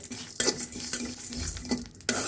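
Spices for mutton haleem sizzle in a little hot oil while a spoon scrapes and stirs against the pan in several quick, irregular strokes, close up.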